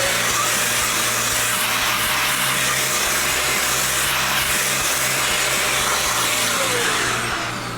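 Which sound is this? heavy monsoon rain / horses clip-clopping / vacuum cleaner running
vacuum cleaner running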